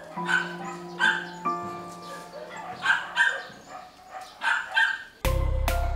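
Several rescued dogs at a shelter bark and yip in repeated bursts, some higher-pitched whining mixed in, fairly close, ending with a sudden loud noise burst.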